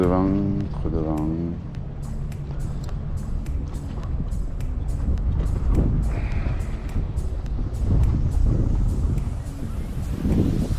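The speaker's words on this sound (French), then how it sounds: "Trop de vent, trop de vent." Strong wind buffets the microphone on a beach during a surf fishing session, a steady rumbling roar throughout with voices talking over it and some clicking.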